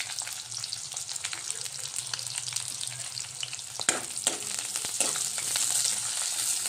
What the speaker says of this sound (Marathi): आता ह्या मी तीन कांदे घेतलेले आहे कापून हे पण यामध्ये टाकायचे आहे